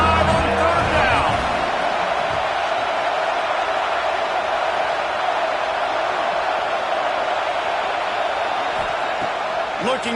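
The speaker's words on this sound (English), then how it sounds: "The Buckeye crowd alive on 3rd down." A Buckeye football crowd in a college football video game roars in a steady, broad wash of noise that holds evenly throughout, with play-by-play commentary running over it.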